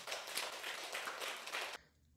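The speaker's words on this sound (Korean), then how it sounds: "실천한다고 아는 분들은 박수를 쳐야죠" Temple congregants clap together during a monk's Dharma talk, a faint, dense stretch of many hands clapping from across the room that cuts off abruptly into near silence.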